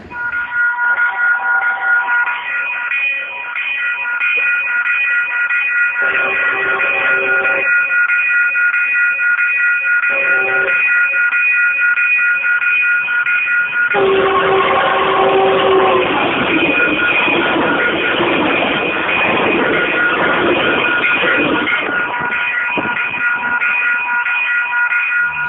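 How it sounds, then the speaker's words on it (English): A train passes at a railway track on a cold day, its horn sounding in long, loud, sustained blasts broken by short pauses, over a rising rumble of the train as it nears, with no talk. "With our first train coming soon."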